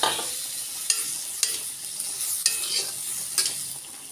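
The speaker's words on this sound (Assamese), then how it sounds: "বিলাহী, আদা, নহৰু, পিঁয়াজ বহুতখিনি বইল হৈ আছে আৰু এতিয়া ইয়াতে মই আলুখিনি দি দিলোঁ" Potatoes tumble into simmering tomato, ginger, garlic and onion in a pan, giving a soft steady sizzle broken by several sharp stirring scrapes spaced a second or so apart, no voices.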